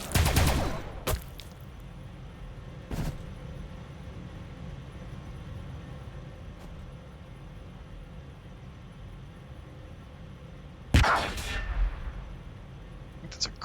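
Gunfire in the Warhammer 40,000: Battlesector strategy game, with booming volleys at the start, another burst a few seconds in and a loud cluster near the end over a low, steady battlefield rumble.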